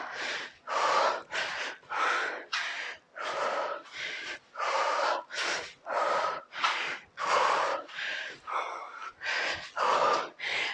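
Heavy, rhythmic breathing during an at-home thigh workout, with about a dozen loud, forceful breaths and blowing-out exhales repeating steadily and close up.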